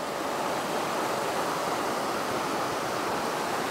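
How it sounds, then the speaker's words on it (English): A small river flows outdoors beside an abandoned old house, a dense, steady rushing of water with no breaks, fairly loud and close, with no talking. "Check this out, there's a little river right here."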